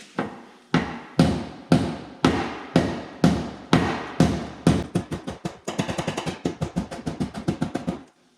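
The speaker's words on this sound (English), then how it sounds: "I've just got a steel dolly and I'm just going to kind of start bumping this out a little bit" A steel dolly and hammer bump out a dent in a car body panel during autobody repair. About a dozen evenly spaced metallic knocks ring close up, then quicken into a faster run of lighter taps before stopping.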